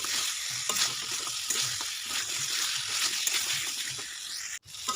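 Pointed gourd, potato and lentil dumplings sizzle in hot oil and spices in a pan, a steady close frying hiss with occasional stirring scrapes and no voices.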